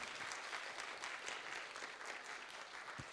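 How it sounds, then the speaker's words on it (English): At a Central and Eastern Europe regional business summit, an audience applauds steadily and evenly from start to finish. The sound is faint and distant, with no speech over it. "Let's applaud Johan."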